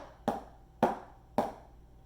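Single strokes on a drum from a single-stroke lesson, three evenly spaced sharp hits about half a second apart, each decaying quickly, quiet and isolated with no talking.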